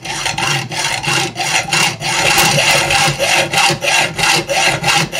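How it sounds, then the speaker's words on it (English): A hand saw cuts off the end of a threaded bolt with a nut threaded on below the cut, in steady, loud back-and-forth strokes close by, with no talking. "But this one's kind of long, so I have to cut it off."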